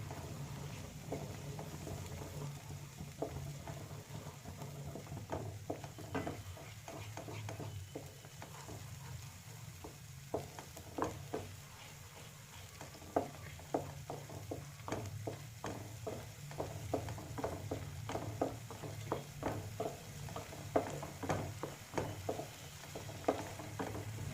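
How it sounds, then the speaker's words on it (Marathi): Masala for Hyderabadi paneer masala sizzles softly in a pan, with frequent scraping and stirring clicks from a spoon over a steady low hiss, fairly faint and close, with no speech. "याला परतून घेऊया व्यवस्थित."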